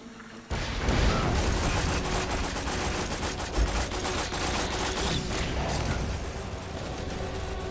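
Combat in the video game Borderlands 2 where a grenade is thrown, a loud continuous barrage of gunfire and booming blasts running almost the whole time after a quiet opening moment.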